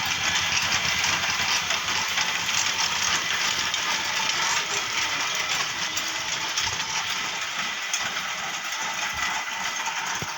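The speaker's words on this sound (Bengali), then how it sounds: "আর মেশিন চলছে দেখতে পাচ্ছ" Inside a puffed rice (muri) factory, a machine runs with a continuous mechanical drone and faint rattling, moderately loud and steady, with no talking.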